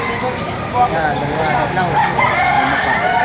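A rooster crows amid the bustle of a chicken market in Padre Garcia, Batangas, partly buried under constant crowd noise and nearby voices talking.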